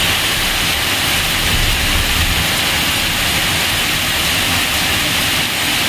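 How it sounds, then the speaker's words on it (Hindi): Heavy rain falling outside at night in Deoria, India: a loud, dense, unbroken hiss of downpour with no pauses, close and steady from start to finish. "बाहर इतनी तेज़ बारिश हो रही है"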